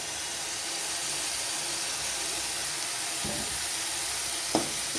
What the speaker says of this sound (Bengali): আর দিয়ে দেবো সামান্য পরিমাণে জল দিয়ে খুব ভালো করে কষে নেব যাতে কাঁচা গন্ধটা না থাকে